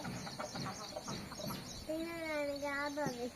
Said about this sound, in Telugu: మా కోళ్ళు తినడానికి వస్తున్నాయి